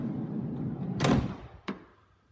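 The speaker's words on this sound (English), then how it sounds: "Twin sliding doors." A sliding side door on a 2016 Volkswagen Transporter T6 Shuttle van rolls along its track and closes with a solid thud, then a short latch click follows, heard close up.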